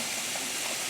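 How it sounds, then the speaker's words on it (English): Rigatoni pasta boiling in a pot on the stove, a steady, even bubbling and hissing wash of water that stays constant and fairly close throughout, with no talking. "And I have my rigatoni over here boiling."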